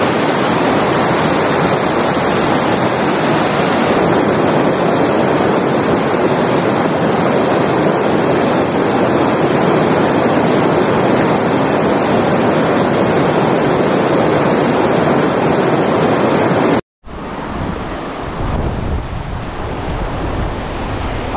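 Pinsal Falls, a twin waterfall on the Ilocos Sur–La Union coastal road, roars as a steady, loud broadband rush of falling water, close by, with a brief cut near the end before the torrent resumes.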